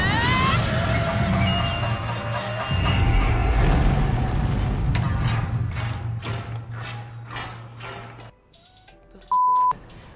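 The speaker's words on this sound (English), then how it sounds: "And that's the sound of selecting your driver." Driver selection sound from the Nintendo-era racing game Street Racer: a short burst of busy, layered game effects and music, loud at first, then fading into scattered blips and a final brief beep.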